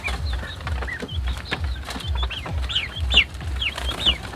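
A flock of chickens and turkeys clucks and chatters continuously nearby, with overlapping calls and low scuffling sounds underneath.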